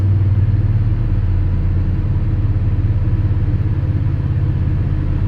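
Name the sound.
engine of 1985 Chevy Squarebody truck running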